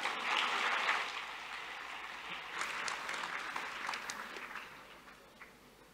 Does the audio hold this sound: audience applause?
yes